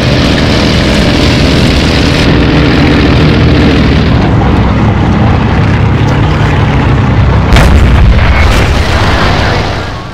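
Tank cannon fire and engine rumble in a tank combat video game, a loud, continuous low roar with a sharp boom about two seconds in and another crack near the end.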